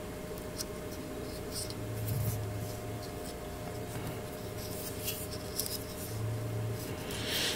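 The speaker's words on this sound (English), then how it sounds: "First thing I'm going to do is remove the tape that I put on the shoulder." Masking tape is slowly peeled off the painted shoulder of a 1/100 MG Gundam Aegis model kit, a close, quiet, continuous scratchy rasp with faint crackles and no talk.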